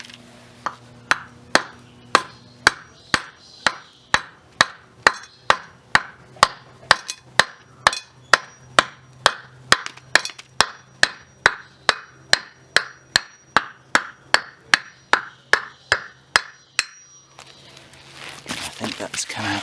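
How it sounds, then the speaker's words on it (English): A hammer drives a wooden block against a shaft end on a Scott Bonnar 45 rear roller, with about thirty loud, close, evenly spaced thuds over steady rhythm, then falls quiet. "I've got my hammer and a block of wood for the end of this shaft."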